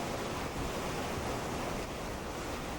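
Ocean surf off Goat Island in Tobago roars as a steady, broadband wash of waves, with some wind noise and no voices.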